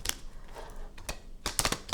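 A Crow Tarot deck is shuffled by hand, producing crisp, close card riffles and flicks in short bursts, several sharp clustered snaps separated by quieter pauses.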